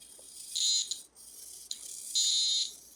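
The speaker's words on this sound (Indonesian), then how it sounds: "ketika sensornya melihat ke arah sini, buzzernya berbunyi" The buzzer of a radar object detector sounds two shrill, steady electronic tones, each about half a second long and well apart, close by in a quiet room.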